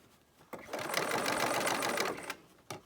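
A sewing machine stitches a seam on a fabric mask in one continuous close, rapid whirring run of about two seconds, with short mechanical clicks before and after.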